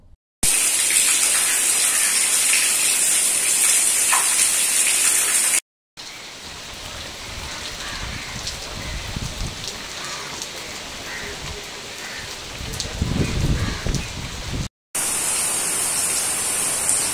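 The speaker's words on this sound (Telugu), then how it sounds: "నెల్లూరు జిల్లా అనంతసాగర మండల వ్యాప్తంగా గాలితో కూడిన భారీ వర్షం పడుతోంది." Heavy rain driven by wind across Ananthasagaram mandal in Nellore district, a steady dense hiss of downpour with gusty surges, continuous and loud throughout, broken by two brief cuts.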